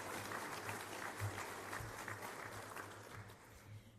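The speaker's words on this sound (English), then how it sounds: "please join me in a round of applause in recognition of our wonderful Conspicuous Service Decorations awardees" Audience applause at a Queen's Birthday Honours investiture ceremony, a steady dense wash of many hands clapping that holds for the whole stretch, fairly distant and even with no voices on top.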